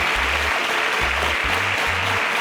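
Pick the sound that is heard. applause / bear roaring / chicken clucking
applause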